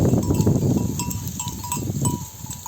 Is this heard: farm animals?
yes